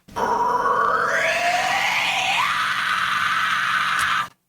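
A loud, sustained vocal fry scream lasts about four seconds, its gritty pitch sweeping upward partway through before cutting off abruptly.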